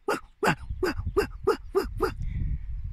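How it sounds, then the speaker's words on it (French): A dog barks seven times in a steady, evenly spaced series, loud and close, each bark sharp and bright, and a faint tone lingers after the last one. "de temps en temps, il y a aboiement de chien."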